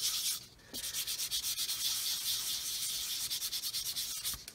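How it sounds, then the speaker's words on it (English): Polishing stick rubbed back and forth over the plastic surface of a 1/144 Roden C-141B Starlifter model kit, a close, steady scratchy rasp in quick rhythmic strokes with no talk. "using the back of this one, this is the Flory polishing, the back of it's a polisher"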